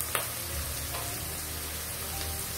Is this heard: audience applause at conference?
no